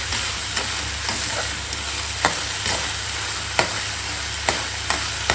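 Onions frying in a pan in a home kitchen, a steady hissing sizzle with sharp utensil taps and scrapes spaced every second or so.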